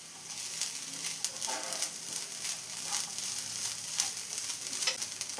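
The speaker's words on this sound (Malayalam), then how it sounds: "ജസ്റ്റ് ഇതെല്ലാം കൂടെ ഒന്ന് വഴറ്റിയെടുക്കണം" Chopped vegetables sautéing in a hot pan for a puttu upma, with a steady close sizzle and frying crackle, alone, broken by occasional scraping stir strokes.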